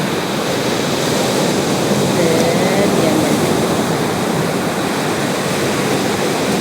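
A loud, constant roar of crashing surf fills the scene, with a voice speaking briefly over the rushing water.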